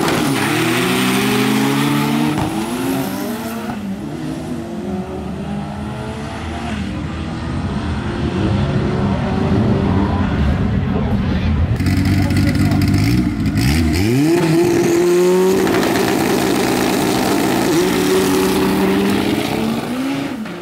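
VW Gol 4x4 street car revving hard and accelerating down a drag strip, loud engine rising and falling through several gear shifts, with people talking and commenting over the noise.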